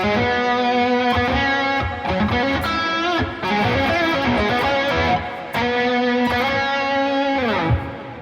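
Saturated, distorted electric guitar with a thick, crunchy bridge-pickup tone, chords and sustained notes ringing loud and alone.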